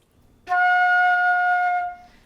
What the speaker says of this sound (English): So now our next note is F.